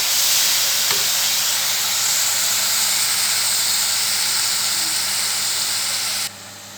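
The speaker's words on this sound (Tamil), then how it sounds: "அந்த தக்காளி இதோட நான் சேர்த்திக்கிறேன். சேர்த்துட்டு இது நல்லா வதக்கி கொடுக்கலாம்." Ground tomato sautés in hot oil in a pan for a Tamil salted-meat rice dish, giving a loud continuous sizzle and hiss that drops off abruptly at the end.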